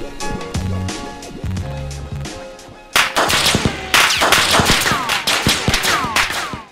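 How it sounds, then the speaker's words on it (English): Gunfire in the video game Electric State, with rapid bursts of shots cracking out loudly after a quieter opening, including fast automatic fire and sharp repeated reports at close range. "we're getting shot at"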